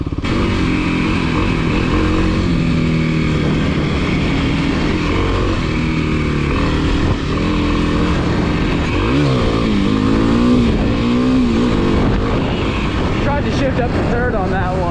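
Kawasaki KLX300 dirt bike ridden along a trail, its engine droning steadily and revving up and down with pitch rises and falls, loud and close throughout.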